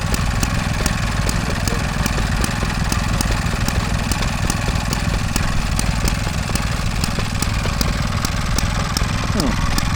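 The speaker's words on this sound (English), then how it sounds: "there's a Villiers Marvel, which is 98cc. 2-stroke powering a washing machine." A small Villiers Marvel 98cc two-stroke engine drives a washing machine at an outdoor transport festival, running steadily at a fast idle with a rapid, even ticking beat throughout, close and continuous with no break.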